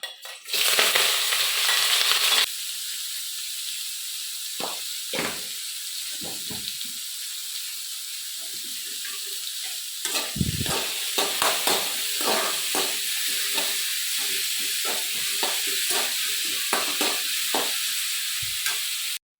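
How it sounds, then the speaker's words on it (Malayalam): Vegetables for samosa filling are stirred and sautéed in a hot pan, a loud steady sizzle broken by scraping stirs and clinks, close up with no talking. "ഈ പച്ചക്കറികളെല്ലാം നല്ലതായിട്ട് വേവുന്നിടം വരെ വഴറ്റിയെടുക്കണം"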